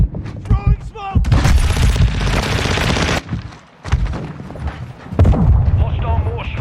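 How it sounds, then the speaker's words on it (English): Hostile mortar strike explosions in Modern Warfare II crash in loud, heavy booming waves with a rumbling tail, joined by gunfire and a brief radio-style voice. "Hostile mortar strike near your position."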